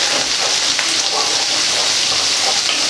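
Shrimp searing in a hot pan for shrimp and grits, a steady close crackling sizzle that holds constant throughout with no talk over it.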